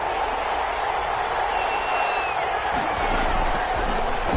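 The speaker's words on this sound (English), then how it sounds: "The crowd getting into it as we come up on a big 3rd down." Crowd noise building in a PS4 football video game ahead of a big third down, a dense continuous roar of cheering with a whistle-like whoop rising above it, under a commentator's voice.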